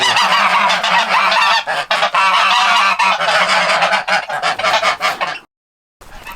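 A flock of geese on a Cyprus farm honks loudly and repeatedly up close, a dense overlapping chorus that stops suddenly near the end.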